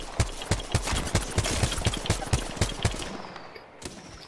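Rapid gunfire from the video game Apex Legends, a rhythmic burst of about a dozen sharp, loud shots fired at an even pace, then a short tail of quieter sounds as the shooting stops.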